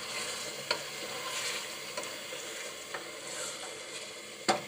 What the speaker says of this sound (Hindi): इन सारे अज्जा को मैं दोबारा से हिला दूँ